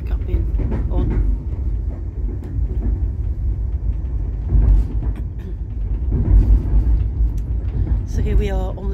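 A train rumbles steadily along the tracks, a low continuous roar with occasional louder surges, heard from inside a carriage of The Canadian leaving Toronto.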